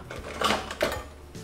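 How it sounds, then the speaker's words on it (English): Eggs and sugar being whisked together by hand in a bowl for two portions of eggnog, giving a short burst of close, bright clattering and scraping in a couple of quick strokes, with no voices. "Now we need to whisk them."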